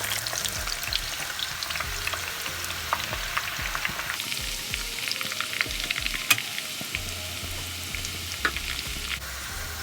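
Chopped onions and bay leaves frying in a pot for goat meat stew, a continuous close sizzle with scattered crackles and utensil stirring clicks.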